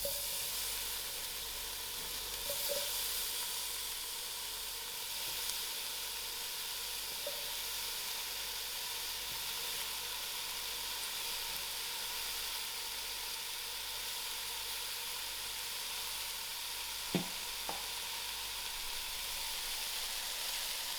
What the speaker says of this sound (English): Now I am ready to add in my sweet potatoes.